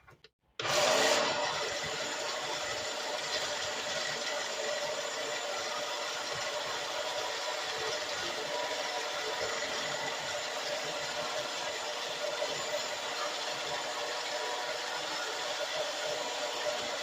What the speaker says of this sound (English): I'm going to use a small food processor